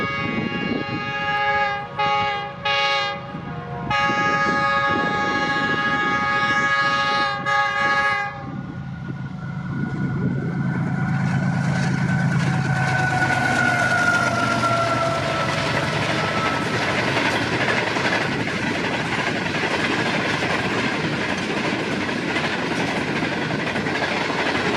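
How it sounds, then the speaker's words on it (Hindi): The 5 Up Green Line Express, running from Karachi toward Islamabad, sounds its horn in long blasts, then roars past close by with a steady rumble and rattling wheels that grow loud and hold through the pass. "ये ट्रेन थी 5 up green line express, Karachi से चली थी और जा रही है मालगला इस्लामाबाद की जानिब।"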